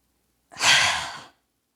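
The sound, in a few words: deep yoga breath, inhaling then exhaling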